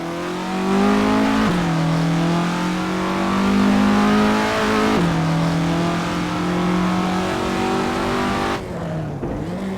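A classic Formula Ford racing at Donington in Assetto Corsa, its engine revving hard and steady near the listener, rising through each gear with a couple of clear shift dips before easing off at the end.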